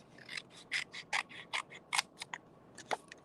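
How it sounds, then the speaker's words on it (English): Scissors snip through a strip of craft material in a quick series of about a dozen short, crisp cuts, close and fairly quiet, with brief pauses between bursts. "and I'm just going to cut a strip"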